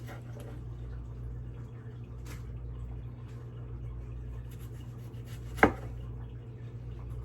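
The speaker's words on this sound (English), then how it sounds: "I can slice this tomato better than that." A knife cuts through a tomato in a kitchen, with faint soft slicing against a steady low hum and one sharp, distinct chop of the blade hitting the board near the end.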